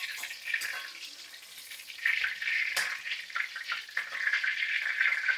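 Food fries in hot oil in a pan during home cooking, a steady close sizzle and crackle that swells louder partway through, with no talk.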